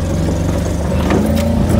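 Tata Ace tempo engine labouring as it climbs off-road over a rough track strewn with laterite stones, a loud, steady close-up drone that swells slightly toward the end.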